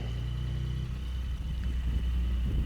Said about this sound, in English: Let's go ahead and start it up so that you can hear the difference in the regular and then with the baffles open